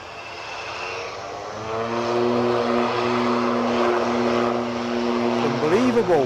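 An ATR turboprop airliner takes off from Edinburgh for Belfast, its propellers giving a strong steady hum with clear tonal drones that build in loudness and shift in pitch near the end.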